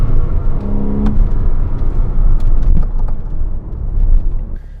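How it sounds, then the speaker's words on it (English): A 2007 Porsche Cayman S engine drones loud and steady through a tight turn, rising and swelling briefly with throttle amid continuous road and wind rumble. "Really bust a tight turn right there."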